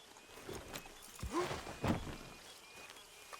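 Horse hooves walking in the video game Red Dead Redemption 2, a few soft clopping steps fairly close, irregular and faint over a quiet ambient background.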